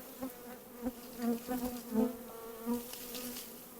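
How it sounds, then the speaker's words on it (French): A large swarm of honeybees hums in a dense, steady drone outdoors, with the buzzing rising and falling in close, loud swells as individual bees pass near. "C'est un très gros essaim."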